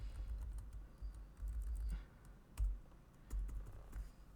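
Quick, light keystrokes patter on a computer keyboard in short irregular bursts with brief pauses, close and quiet, with no voices.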